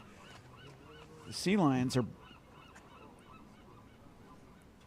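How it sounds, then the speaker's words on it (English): Birds honk at night by the sea, a short loud burst of goose-like calls near the middle, over a quiet background with a person speaking briefly. "Those are birds."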